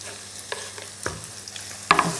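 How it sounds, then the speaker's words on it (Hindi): Chopped onion and green chillies sizzling in hot oil in a pan, a steady crackling fry with a few soft stirring scrapes and a louder clatter near the end, close and without voices. "अब हम यहाँ पर ये चॉप की हुई प्याज, साथ में हरी मिर्चें भी हम इसमें डाल देंगे।"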